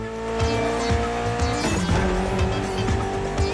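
A Mitsubishi Evo is driven hard in The Crew Motorfest gymkhana, the engine revving loudly through gear changes while tires squeal and skid, with a sudden burst of drift noise midway.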